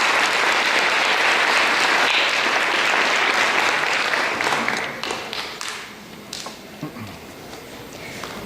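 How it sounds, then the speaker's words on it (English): A college graduation crowd applauds the practical nursing graduates, a loud, dense burst of clapping that holds steady before thinning into scattered claps and fading toward the end. "a great round of applause for our practical nursing students"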